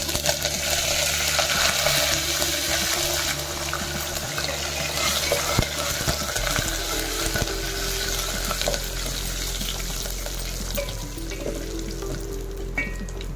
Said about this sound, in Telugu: ఉల్లిపాయ కలర్ మారే వరకు వేపుకుందాం